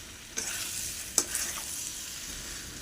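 Potatoes and pointed gourd fry in spices while being stirred, a soft steady sizzle broken by a few sharp scraping strokes, close by and without talk.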